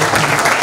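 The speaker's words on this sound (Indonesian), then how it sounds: "Tepuk tangan dulu dong buat guru-guru yang" An audience claps for teachers at a school program, a short burst of dense, steady applause that fills the whole moment.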